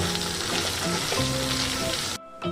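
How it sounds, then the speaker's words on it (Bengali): Boiled potato is stirred in a frying pan with curry leaves, giving a dense, close sizzle with scraping for about two seconds before it drops off sharply. "এবার আমি এর মধ্যে দিয়ে দিয়েছি সেদ্ধ করা আলুটা তাতে এবার আমি নেড়ে নেব ভালো করে"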